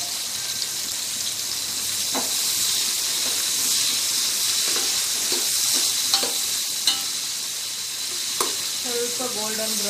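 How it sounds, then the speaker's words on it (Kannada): Fennel seeds and onions frying in a pan for layered chicken biryani, with a steady, loud hissing sizzle and a few sharp stirring clinks close by. "ಸ್ವಲ್ಪ ಫ್ರೈ ಆಗ್ತಿದ್ದಂಗೆ ಇಲ್ಲಿ ಮತ್ತೆ ಬೇರೆ ಈರುಳ್ಳಿ ಹಾಕ್ಕೊಳ್ಳೋಣ"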